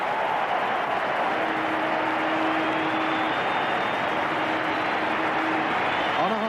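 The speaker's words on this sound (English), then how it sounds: "the crowd have loved every moment of that" Cricket crowd in Melbourne at the 1992 World Cup match between Australia and the West Indies applauds David Boone's century, a broad, sustained wash of clapping and cheering heard from a distance under faint background noise.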